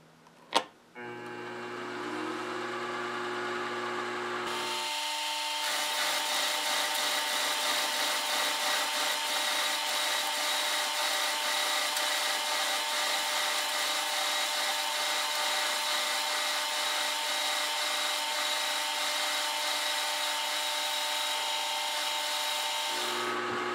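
A milling machine cuts into a metal block in a home workshop, a steady loud whining grind with a high tonal ring that runs unbroken for about twenty seconds after a short spin-up, then stops.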